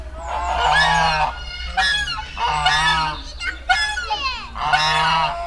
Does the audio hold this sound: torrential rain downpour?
no